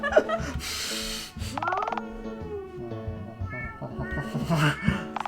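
A cartoonish cat meow from the Dialtown video game, with voiced, pitch-sliding vocal sounds mixed among game music and effects, loud and close throughout.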